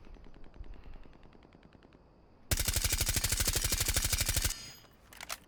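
Thatcher's gun with a suppressor firing in Rainbow Six Siege: a long, fast, evenly spaced burst of loud muffled shots lasting about two seconds, with softer rapid shots before it and no talk.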